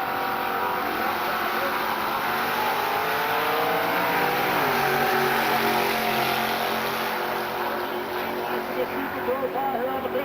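Super Pro drag race cars, including a Chevy Camaro, launch and run down the strip with a loud sustained engine roar that climbs in pitch, steady throughout with a rougher, sputtering edge near the end.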